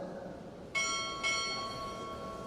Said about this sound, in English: Time orderly, strike, 2 bells.